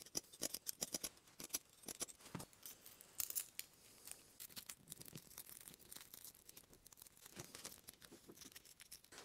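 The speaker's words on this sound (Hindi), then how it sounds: "तो यहाँ पे मैं कैंची से इसको थोड़ा सा छोटा कर लेता हूँ।" Hand scissors snip through metal mesh for a homemade gas heater mantle, a rapid series of sharp, crisp cuts and rustling crinkles, faint and close, with no speech.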